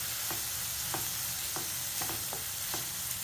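Onions sizzle steadily in hot oil in a pan for chenna masala, with a soft continuous fry hiss broken by several light scrapes and taps of a stirring spoon, close up, with no voices.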